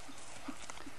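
A horse trotting in a riding training session, with a few soft, evenly spaced hoof beats that stay faint under a steady background hiss.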